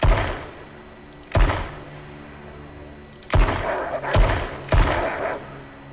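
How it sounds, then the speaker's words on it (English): Gunshots ring out in the survival game H1Z1. There are five sharp, loud reports: one alone, then a cluster of four spaced about a second apart, each with a short ringing tail over low background hum. "I'm going to have to shoot this guy"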